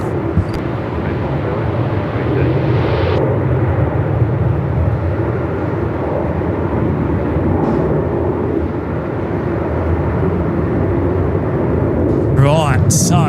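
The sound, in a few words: Jetstar A320 airliner departing Melbourne Airport runway 34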